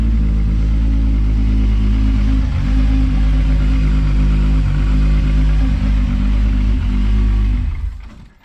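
A car engine with a faulty throttle body runs loud and close, its low rumble holding fairly steady with a few dips and surges before dying away abruptly at the end.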